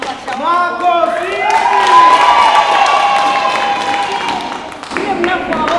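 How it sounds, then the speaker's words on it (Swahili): An audience claps and cheers at a gathering, a loud sustained burst of applause with whoops and shouting children, rising and then tapering, with voices over it. "Makofi!"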